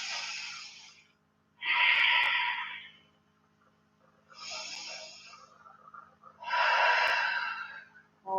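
Slow, deep breathing during a yoga hold in a restorative class: four long breaths, alternating softer inhales and stronger, airy exhales, close and alone without talk.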